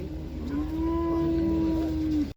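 A single cow lets out one long, steady moo at an open-air livestock market in Uzynagash near Almaty, close and clear, with a faint murmur of the market behind it.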